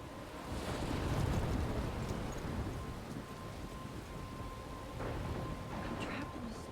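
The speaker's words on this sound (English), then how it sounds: "I'm trapped in a storm?" A storm in the Life is Strange video game: a dense wash of rain and wind with a low rumbling roar that swells early, then holds steady with faint gusts throughout.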